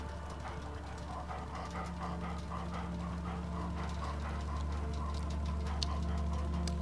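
A dog whimpers and yips softly in the Blair Witch video game, with small intermittent whines over a steady low background hum and faint ticking, no talking.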